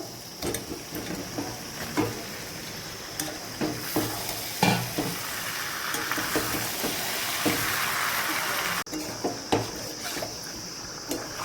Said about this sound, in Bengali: আমি এবারে মাংসগুলো দিয়ে দেবো